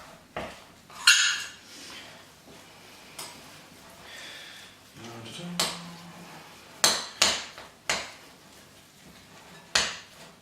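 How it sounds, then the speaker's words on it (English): A spoon scrapes and knocks around a bowl while stirring turkey mince for healthy burgers, giving a series of irregular clinks and thuds with quieter scraping between them. "So, giving it a good stir."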